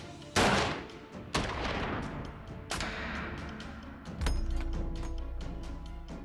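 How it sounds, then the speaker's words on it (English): A sniper rifle is fired at a target on a 100-meter calibration range, four sharp, loud shots spaced about a second apart, each ringing out in a long echoing decay. "Five shots are fired into the target."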